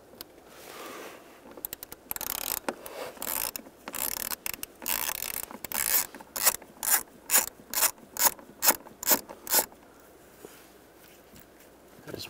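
A socket ratchet clicks steadily as it backs out two small 5.5mm bolts holding the blower motor resistor on a 2002-2009 Chevy Trailblazer, with close, rapid bursts of pawl clicks and short pauses between strokes.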